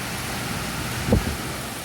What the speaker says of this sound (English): That's got to be a 20-30 mile an hour wind pretty easy.